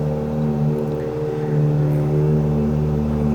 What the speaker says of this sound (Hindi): मैंने अभी जस्ट कोल्ड स्टार्ट किया इसको थोड़ा गर्म होने देते हैं